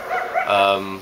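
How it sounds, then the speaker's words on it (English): Dogs bark and yip at a dog park right beside an apartment, a few sharp, close barks with a whiny, tonal edge, heard loud and alone. "Apartment's right next to the dog park, so there's always dogs barking."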